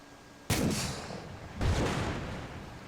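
An RPG rocket strikes a BTR armored vehicle in a video game: two loud, sharp blasts about a second apart, each trailing off into a long rumbling decay, with no voices.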